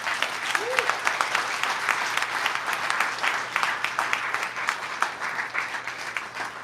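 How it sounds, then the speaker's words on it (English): Applause from a crowd at a live political talk event, sustained, busy clapping with individual claps audible throughout, a brief voice or cheer early on, holding fairly loud before easing slightly at the end. "please give everyone a big round of applause"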